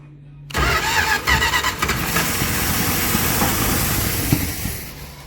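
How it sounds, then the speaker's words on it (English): A 1972 Plymouth Duster with a 318 V8 and an exhaust leak fires up abruptly after a quiet moment and runs loud and ragged with a harsh, rough idle throughout, no speech. "Sounds like I got an exhaust leak, and I don't see too much coming out of the tailpipe."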